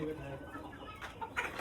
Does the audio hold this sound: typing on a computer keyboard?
no